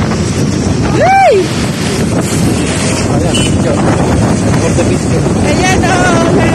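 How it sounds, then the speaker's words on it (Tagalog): Strong storm wind gusting along EDSA, a loud steady roar of wind buffeting the microphone throughout, with a brief whistling squeal near the start and a person talking under it. "ang lakas ng hangin. May bagyo dito sa EDSA Kahabaan."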